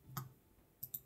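A computer mouse gives three sharp, quiet clicks, one single and then a quick pair close together, in a quiet room.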